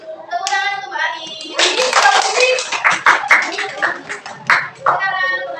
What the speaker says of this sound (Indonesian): Tepuk tangan untuk Mbak Ani.